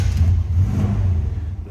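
The engine of a 1957 Chevrolet Bel Air two-door hardtop, recently rebuilt, rumbles close and loud with a deep, steady throb and a slight swell as it is revved.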